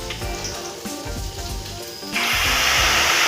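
Bay leaves hit hot oil in a pan for a Bengali steamed hilsa in mustard dish, setting off a sudden loud, steady hissing sizzle that continues to the end after some quieter background kitchen sounds.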